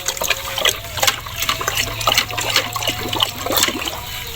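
Fertilizer being stirred into about four and a half liters of water for potted grapevines, a continuous sloshing, splashing churn with irregular bursts, fairly close and alone.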